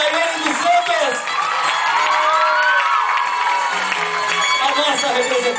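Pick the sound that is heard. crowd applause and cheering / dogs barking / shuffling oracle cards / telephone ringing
crowd applause and cheering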